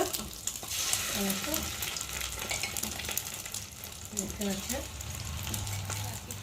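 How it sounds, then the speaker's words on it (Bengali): Eggs frying one by one in hot oil give a steady broadband sizzle with light crackle throughout, while a voice speaks over the pan. "তেল গরম হয়ে গেছে, আর একে একে আমি এরকম করে ডিমগুলোকে ভেজে নেব"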